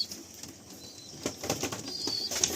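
Kalanka pigeons are released and flap their wings nearby, several quick bursts of fluttering with faint cooing over quiet outdoor background.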